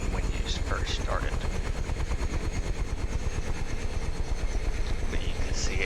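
UH-1H Huey helicopter in a flight simulator game, rotor winding down with a steady rapid thumping chop over a low engine drone, loud and close.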